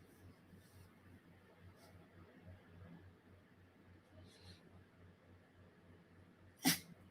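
A single sharp sneeze bursts out near the end, loud and close, after a stretch of quiet low hum and faint rustling.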